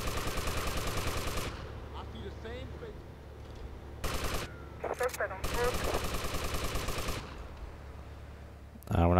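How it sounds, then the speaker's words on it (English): Rapid automatic gunfire from GTA: Vice City, sustained loud bursts with short gaps, mixed with game sound effects and brief voice-like snippets between volleys. "And then you can just keep shooting them."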